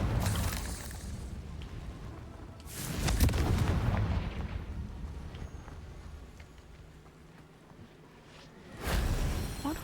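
Confringo spell explosions cast in the video game Hogwarts Legacy, a few heavy booming bursts around three seconds and again near the end, with quieter rumbling game ambience between them.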